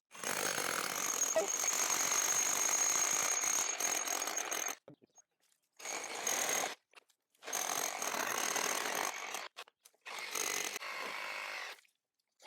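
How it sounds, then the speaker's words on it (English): A cordless drill with a carbide hole saw grinds through wood in several bursts, a long first run followed by shorter stop-and-start pulses. "This boss will drill holes like this all day long."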